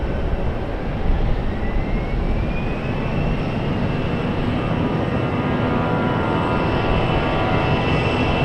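A PSA Airlines regional airliner at Raleigh-Durham International Airport sends out a steady, loud engine roar that holds evenly throughout, with a faint rising whine above it.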